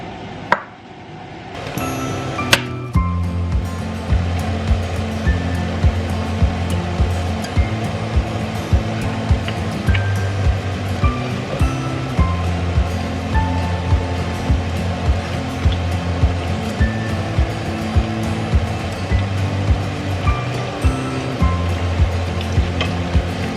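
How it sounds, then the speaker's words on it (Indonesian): Sambal ingredients, without tomato, frying in oil in a pan, a steady loud sizzle and crackle with regular sharp pops, continuing evenly and alone after a brief opening clatter. "Ini kita goreng dulu, nggak pakai tomat."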